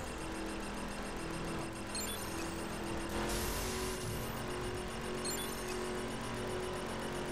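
A car engine in The Crew racing game on PS4 revs hard in a sustained, loud drone, with a sharp surge of acceleration partway through and no one speaking over it.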